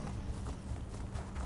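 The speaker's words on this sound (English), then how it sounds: "the horse looked at me and took off running" A horse gallops off in The Elder Scrolls Online game, with rapid rhythmic hoofbeats thudding over a low rumble for a brief moment.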